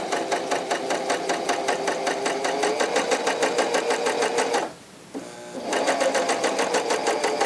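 A Janome CoverPro 3000P coverstitch machine runs a top cover hem at a fast, steady rhythmic chatter, loud and close, pausing briefly before resuming at the same pace.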